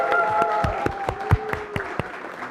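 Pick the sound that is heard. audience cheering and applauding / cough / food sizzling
audience cheering and applauding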